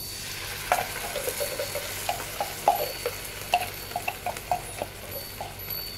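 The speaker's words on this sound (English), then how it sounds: "I'm going to mix the balachan." Balachan shrimp paste being stirred and mixed for sambal prawns, a series of soft, wet clicks and scrapes in an irregular rhythm, close and fairly quiet, with no talking.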